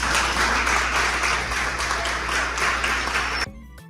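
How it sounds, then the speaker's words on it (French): Women attending a feminist summer university training session applaud together, steady clapping for about three seconds that stops abruptly, leaving quiet room hum. "Les filles, vous applaudissez, madame"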